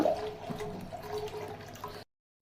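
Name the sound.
milk starting to boil for rice kheer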